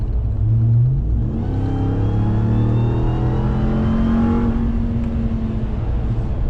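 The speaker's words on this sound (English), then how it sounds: "one of the things I really like, and that's the sound of the Supercharger" A 2021 Ram TRX pickup engine revs up loudly and close, with a rising supercharger whine climbing over a deep rumbling exhaust.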